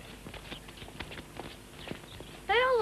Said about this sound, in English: Look at all the horses.